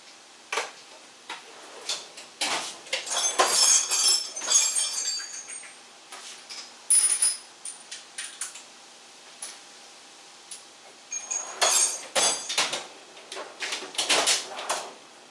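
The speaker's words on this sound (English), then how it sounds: "So what I do, I take my spark plug socket" Spark plug socket clicking and ratcheting while removing a spark plug from a 2005 Chrysler Sebring engine, in bursts of metallic ticks and clinks with quiet pauses between them.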